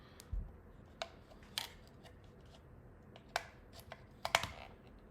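AAA batteries go into a fast battery charger with a few sharp plastic clicks and snaps, scattered and close, over a quiet background with no talk.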